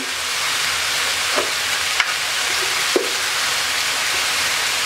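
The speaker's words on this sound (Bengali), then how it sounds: "এবার আমি ভালো করে একটু নাড়াচাড়া করে" Mixed vegetables with sliced green chillies and turmeric fry in a pan with a steady broadband sizzle, broken by a few soft scraping stirs and clicks of a spatula, close and alone.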